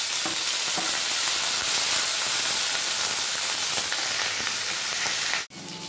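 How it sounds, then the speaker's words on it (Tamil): Onion, garlic and curry leaves sauté in hot oil for a brinjal tamarind kuzhambu, giving a loud, steady sizzle and hiss with stirring throughout, cut off abruptly near the end. "இப்போ வெங்காயம், பூண்டு, கருவேப்பிலை போட்டு வதக்க போகிறோம்."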